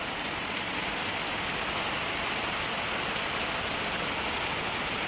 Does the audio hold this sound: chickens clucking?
no